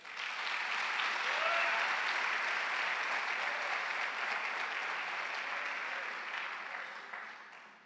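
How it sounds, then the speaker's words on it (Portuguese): A church congregation applauds during a worship service, a steady wash of many hands clapping at moderate distance that holds evenly for several seconds before fading away. "Vamos aplaudir o Senhor."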